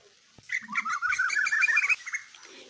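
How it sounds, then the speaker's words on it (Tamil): An Asian koel calls from a tree in a garden: a rapid run of clear, fairly loud repeated notes for about a second and a half, heard alone. "இந்த மரத்தில் தான் குயில் கூவிக்கிட்டே இருக்கிறாங்க."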